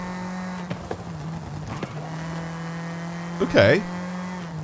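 Rally car driven in the video game Forza Horizon 5, its engine humming steadily at a constant pitch with small tonal shifts and a brief louder surge near the end, while someone speaks briefly.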